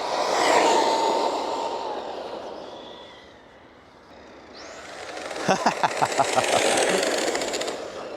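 RC car running at full throttle on a 4S battery: a whining motor rush that fades, then returns with a rapid buzzing stutter, fairly loud and close, without speech.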